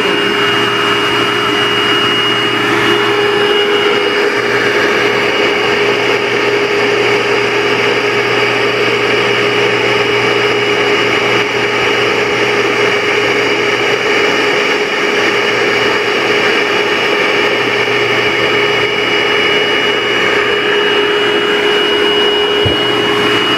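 A Bissell SpotBot Pet Deluxe carpet spot cleaner runs its quick clean cycle, giving a loud, continuous motor whine with steady tones that keeps going without pause for over twenty seconds, with no one talking.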